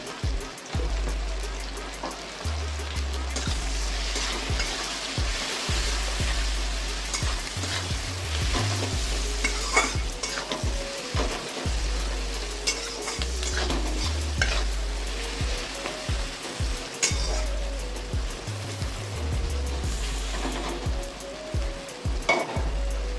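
Onions with ginger, salt and turmeric fry in a pan, a continuous close sizzle broken by repeated scraping strokes of a spatula over a low steady background hum.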